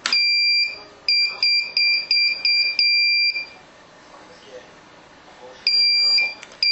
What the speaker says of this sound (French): j'actionne un bouton et puis on entend un bip, un SOS dans le fond